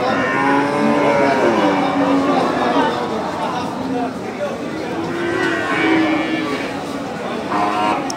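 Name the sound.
Sahiwal bull cattle at a cattle market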